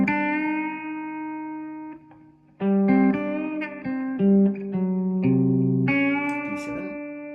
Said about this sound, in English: what you hear is weird and ethereal and whatever is just me playing a voicing on a chord